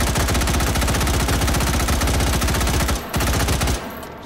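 An extended burst of rapid automatic fire from a gun emptying its magazine in the H3VR virtual reality shooter: dense, loud, close shots in an unbroken stream, a short pause, a second burst, then the firing stops.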